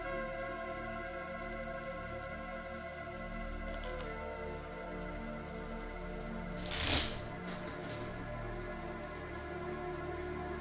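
A deck of tarot cards being shuffled during a reading, a quiet ongoing riffle under faint background hum with one brief sharper flurry of card noise near the middle.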